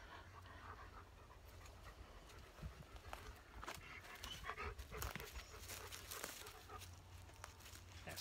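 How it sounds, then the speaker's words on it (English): A dog squeaks and whimpers between quick panting breaths, close by, over steady outdoor background noise. "Squeaking sound you hear is my other dog."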